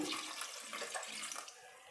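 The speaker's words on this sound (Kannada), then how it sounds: "ಈಗ ನೀರು ಸೇರಿಸ್ಕೊಳ್ತೀನಿ ತರಕಾರಿ ಮುಳುಗೋಷ್ಟು ನೀರು ಸೇರಿಸ್ಕೊಳ್ತೀನಿ" Water is poured from a vessel into a pressure cooker of chopped vegetables and onion for sambar, a short, soft, hissing splash heard alone.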